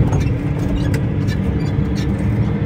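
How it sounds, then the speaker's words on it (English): A vehicle pulling a trailer is driven along, heard from inside as a steady low engine and road rumble. "I swear I'm not moving the seat because it's Rose driving"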